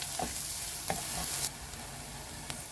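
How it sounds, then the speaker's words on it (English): Onion frying in a pan until golden brown for garlic turmeric rice with mixed vegetables, giving a steady soft sizzle with a few brief scraping stir strokes, fairly quiet and close. "Now let's put the onion. Fry until it turns to golden brown."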